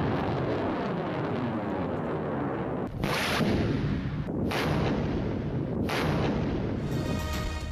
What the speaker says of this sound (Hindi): पाकिस्तान का जमीन से जमीन तक मार करने वाला शॉर्ट रेंज नस्र मिसाइल का कामयाब तजर्बा